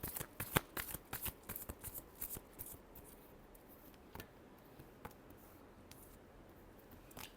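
Tarot cards shuffled by hand for a reading, a rapid run of crisp riffling snaps and flutters, loudest in the first few seconds and then thinning into softer, scattered shuffles close by, with no talking.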